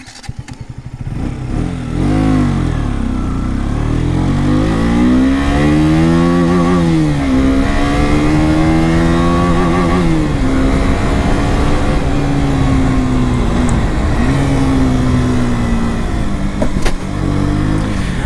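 A 2022 KTM RC 125 motorcycle engine while riding, droning loud and close with rising and falling revs as it climbs through the gears, shifting pitch again and again with no talking.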